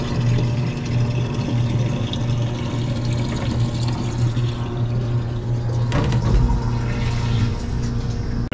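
A coin-operated water vending machine pours into a one-gallon bottle, a steady rushing stream with a low pump hum running continuously, shifting briefly near the end.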